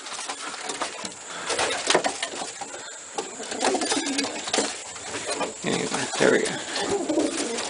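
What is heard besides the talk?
racing pigeons cooing in aviary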